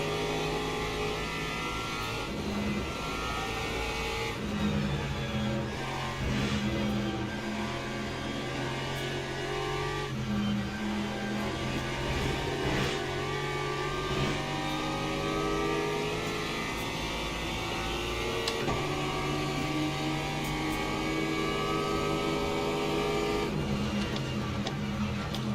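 Race cars in the Le Mans Ultimate racing game roar continuously, with engines revving up and down through gear changes as a pack of cars including BMWs and a McLaren battles close together over a long, loud stretch without talk.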